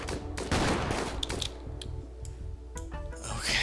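Rapid gunfire from a gun complex in the video game Rimworld, a dense continuous barrage of overlapping shots layered over game music with a low repeating pulse.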